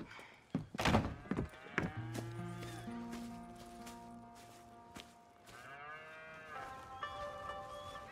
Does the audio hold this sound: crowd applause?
no